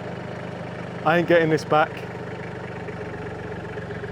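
A tractor engine runs on a homestead, a steady low drone under a short burst of speech.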